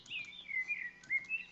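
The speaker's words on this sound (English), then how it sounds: "I just have my chill bird sounds" A played recording of gentle birdsong gives soft, high chirps and warbling phrases in a quiet, intermittent run, faint and without voices.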